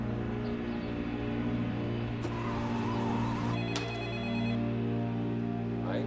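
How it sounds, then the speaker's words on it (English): A telephone rings for an incoming call, a bright electronic tone sounding in a couple of short bursts over a steady low hum, fairly faint and with no talking. "Another call comes in."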